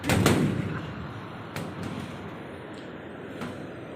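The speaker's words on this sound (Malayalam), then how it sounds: "പടക്കം സൗണ്ട് കേൾക്കും" Firecrackers go off near an iron bridge at Vattathil waterfalls in Ayoor. One sharp, loud bang opens the clip, followed by fainter distant pops and a lingering echoing rumble.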